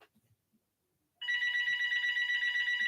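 A telephone rings indoors with a loud, steady electronic trill that starts suddenly after a near-silent pause and continues to the end.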